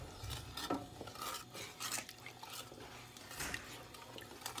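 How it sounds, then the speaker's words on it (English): A utensil stirs miso soup in a pot with water and soup base, giving soft scraping, clinking and sloshing sounds in an uneven rhythm, quiet and close. "Give it a stir."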